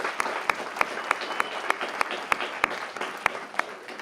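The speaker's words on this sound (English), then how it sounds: "Round of applause right here for the people that made this happen" Audience claps at a CollegeBound Awareness Month ceremony, a modest crowd applauding steadily with a few sharper, louder claps standing out regularly, moderately distant.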